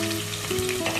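A medium onion dropped into hot oil with cumin seeds for a gobi aloo curry, giving a steady, close sizzle with a faint hum underneath, no voices.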